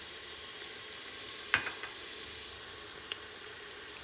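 Cardamom pods and cloves sizzle softly in hot ghee with a faint, even hiss. A few light clicks and pops rise above it.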